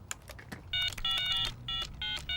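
Telephone number dialed on a touch-tone phone in a sitcom scene: a rapid series of loud dual-tone beeps in irregular bursts, preceded by faint shuffling.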